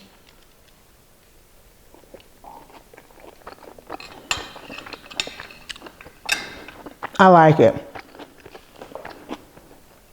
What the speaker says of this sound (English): I'm sure you can hear me crunching.